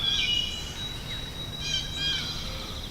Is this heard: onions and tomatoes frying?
no